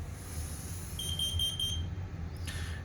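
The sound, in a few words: carbon monoxide alarm sounding temporal 4 pattern on fire alarm demo board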